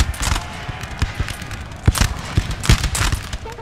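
Musket volleys crackle in Napoleon: Total War as a line of troops fires toward a forest, producing rapid overlapping gunshot bursts and a dense rolling fusillade that stays loud and continuous throughout.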